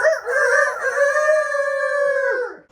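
Rooster crowing heard as one drawn-out cock-a-doodle-doo of clear harmonic tones, fairly loud and close, lasting over two seconds and fading at the end, with no voices.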